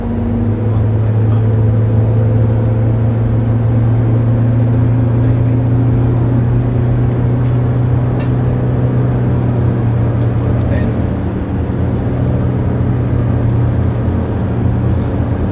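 A Toyota Avanza engine drones steadily and smoothly at cruising speed, heard from inside the cabin as a continuous low hum with no knocks, alone without talk.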